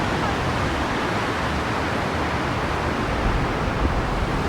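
Constant heavy rush of a flowing river in Naran, Pakistan, a dense unbroken roar at close range with no other sounds.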